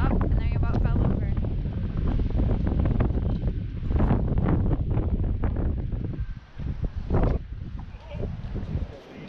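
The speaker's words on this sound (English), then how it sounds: "you probably can't hear me over the wind" Strong wind buffets the microphone outdoors on a lawn being turned into a prairie garden, loud gusty roaring and rumbling that rises and dips, with a voice speaking underneath.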